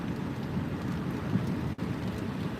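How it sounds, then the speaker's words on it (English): Big, fat wet snowflakes slap a car windshield during a winter storm in Mount Vernon, Kentucky, making a steady, dense patter that fills the clip with no voices. "Big fat snowflakes slapping the windshield currently."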